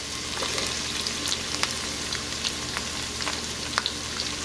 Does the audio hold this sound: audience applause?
no